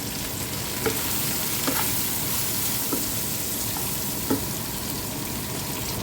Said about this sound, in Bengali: আর মশলাটা কষাই নিব আমি